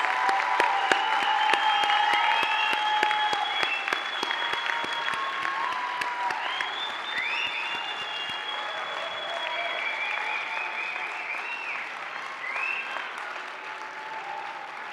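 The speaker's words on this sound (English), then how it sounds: "Turn to your families, friends, and professors, and give them a round of applause." A graduate commencement audience gives a long, dense round of applause that starts loud and slowly eases, with cheers and whoops rising above the clapping.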